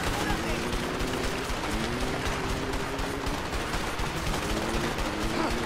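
Dense, continuous bursts of rapid gunfire crackle without pause, loud and close, with electronic game sounds mixed underneath.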